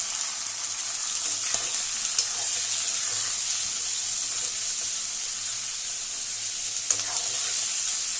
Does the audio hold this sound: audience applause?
no